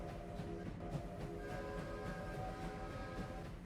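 Train in the Farming Simulator 25 video game on the Kinlaig map, its horn giving a steady sustained tone over a continuous low rumble of rolling carriages throughout.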